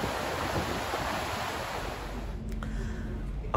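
Sea waves rolling past the deck of the Queen Elizabeth cruise ship at sea, a steady broadband wash of water and wind rushing continuously, with a brief low rumble near the end and no talking.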